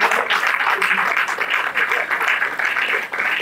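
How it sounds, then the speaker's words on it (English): An audience at a talk on reinventing yourself applauding: a dense, steady wash of handclaps filling the room, loud and continuous for several seconds. "Please clap for him."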